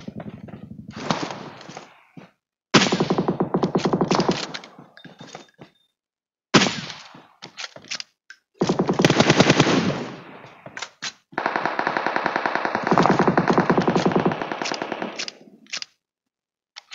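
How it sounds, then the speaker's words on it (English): AKM assault rifle fire in PUBG Mobile, coming in several loud rapid automatic bursts separated by short silences, the later bursts longer and more sustained. "इधर कहीं पे बंदा एक AKM चला रहा था"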